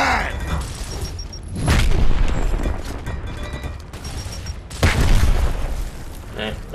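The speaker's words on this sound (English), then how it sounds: "Throwing frag!" A frag grenade thrown in Gears of War on Insane difficulty detonates with a heavy booming blast, followed by a second loud boom amid ongoing gunfire and battle noise, with a voice talking over it.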